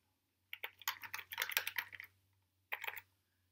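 Password being typed on a computer keyboard during a file transfer program login, a quick burst of close, crisp key clicks for about a second and a half, a pause, then a short second burst, with no talking.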